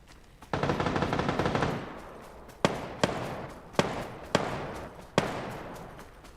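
Gunfire in the battle royale video game PUBG: a dense burst of rapid automatic fire for about a second, then four or five sharp single shots spaced irregularly, loud and close, with no talking.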